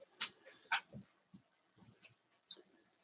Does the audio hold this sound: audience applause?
no